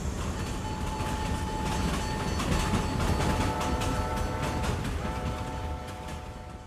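A train rumbles steadily along the rails with a faint clickety-clack and a thin whistle-like tone, a sustained, moderately loud rolling sound effect that eases off toward the end, with no voices.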